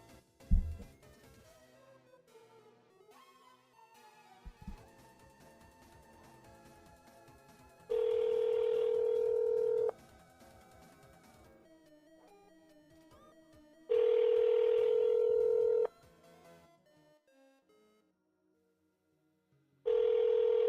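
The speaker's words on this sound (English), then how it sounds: "Hold on. I gotta make a phone call." A telephone call is placed: scattered dialing beeps and faint tones, then three long, loud steady ringback tones separated by quiet gaps, over a low background hum.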